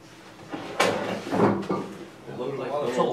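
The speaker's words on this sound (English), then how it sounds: "Let me see if I can open this closet door." A closet door is pulled open nearby with a sharp click of the latch followed by a rattling, scraping swing and a softer knock, while someone talks in the room.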